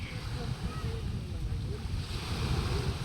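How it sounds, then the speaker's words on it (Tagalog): Strong wind blowing outdoors where a family is gathered, a steady low rumbling buffet on the microphone mixed with a continuous surf-like wash and faint distant voices. "Grabe ang hangin po dito."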